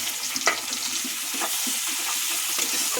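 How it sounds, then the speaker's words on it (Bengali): Chopped onions frying in oil in a wok, a steady close sizzle with occasional stirring scrapes, heard alone without talk. "পেঁয়াজটা আমি লাল লাল করে ভেজে নেব"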